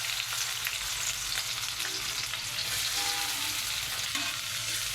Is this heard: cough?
no